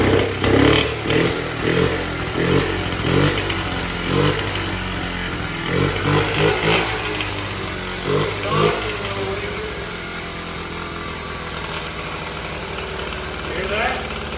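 A Honda Z50 minibike engine kicked over and left running, its small single-cylinder putter pulsing unevenly at first and then settling into a steadier idle, with people talking over it.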